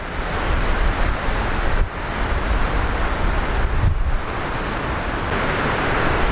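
Wind buffets a Sony lapel microphone outdoors, making a loud, continuous rumbling roar that fills the whole stretch with only slight dips, and no one speaks.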